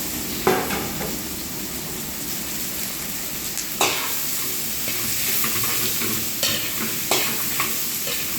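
Pork with fermented black beans (tausi) stir-fried in a pan, cooked as a staff meal: a steady, close sizzle runs throughout, broken by a few sharp scraping clanks of the utensil against the pan.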